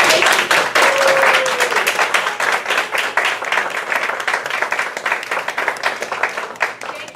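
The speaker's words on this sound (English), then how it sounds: "So I want for you to guys please help me to clap for these amazing people" Audience applause at a contest fills the clip with dense, steady clapping from start to finish, close and loud, fading a little toward the end.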